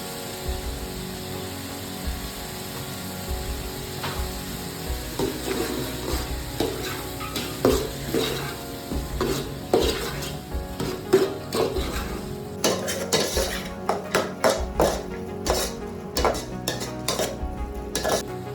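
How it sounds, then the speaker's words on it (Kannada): A spoon stirs tomato and fish masala in a pan, making repeated metallic scrapes and clinks over a low sizzle, with the stirring growing busier and more rhythmic toward the end. "ಟೊಮೊಟೊ ಹಾಕಿ ಸ್ವಲ್ಪ ಮಿಕ್ಸ್ ಮಾಡಿ ಈಗ ಅರ್ಧ ಇಟ್ಟಂತ ಮೀನು ಮಸಾಲೆ ಕೂಡ ಹಾಕ್ತಾ ಇದ್ದೇನೆ"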